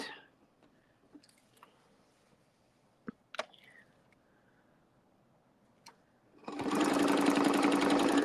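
A sewing machine stitches a red, white and blue quilt, starting up loudly near the end in a rapid, steady whir after several soft clicks and handling taps.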